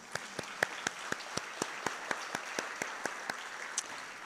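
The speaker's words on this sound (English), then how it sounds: "That deserves some applause." Audience applause at a Hawaii energy conference, heard as a thin, fairly sparse clatter of claps with a few sharp individual hits standing out, steady and moderately quiet over about four seconds.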